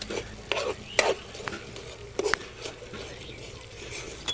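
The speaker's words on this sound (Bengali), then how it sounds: "এবার গুড়টা দিয়ে ভালো করে ক্ষীরটার সাথে মাখিয়ে নেব।" Jaggery being stirred into a milk kheer filling in a pan makes soft scraping stirs and thick sticky sizzling, with a few sharper clinks of the spoon against the pan.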